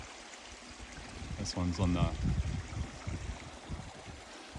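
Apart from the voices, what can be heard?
creek flowing in a clearcut forest block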